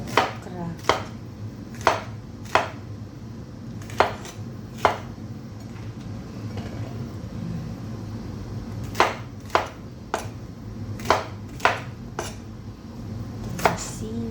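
A knife slices okra for sinigang with crisp, evenly spaced strokes against a board. The chops come in two bursts separated by a short pause, close and clear over a low kitchen hum.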